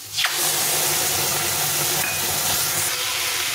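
Spices hitting hot oil in a pan with diced onion for a bitter gourd and fish curry, giving a steady, loud, close sizzle and hiss that holds throughout.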